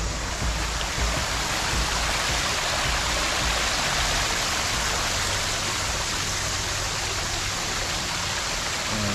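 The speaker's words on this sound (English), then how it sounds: "Here's the waterfall." Steady, dense rushing of falling water, a continuous broadband roar with no pauses and no voices.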